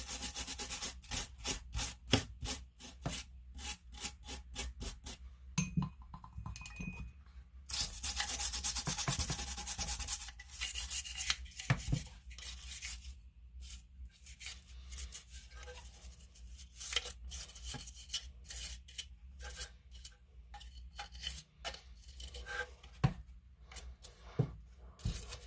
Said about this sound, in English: just really scrub down anything you can